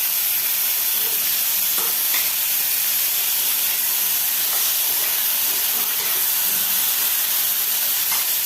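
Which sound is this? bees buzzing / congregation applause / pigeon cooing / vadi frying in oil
vadi frying in oil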